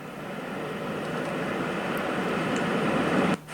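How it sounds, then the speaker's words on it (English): A Hatch Baby Rest sound machine plays a wind track, a steady, broad whooshing rush that swells slightly before being cut off abruptly near the end. "The wind."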